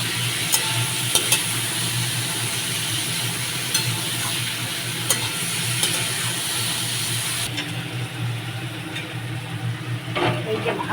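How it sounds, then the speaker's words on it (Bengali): Dal sautéed with spices in a pan gives off a steady, close sizzle with soft stirring scrapes throughout, the hiss easing a little partway through. No one speaks. "ডালটা আমি একটু ওই মশলার সঙ্গে একটু কষিয়ে নিচ্ছি।"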